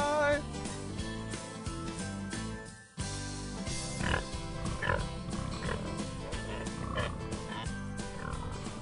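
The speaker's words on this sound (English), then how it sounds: "Here, look, these are beautiful pigs." Berkshire pigs grunting on a farm, short rough snorts repeating over a busy, loud background mix, with bits of talk nearby.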